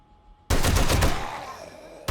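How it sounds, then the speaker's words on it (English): An M60 machine gun fires in the survival game 7 Days to Die, a loud, sudden burst of rapid automatic shots that then trails off into echoing decay. "this is why I love the M60, because it holds so many rounds"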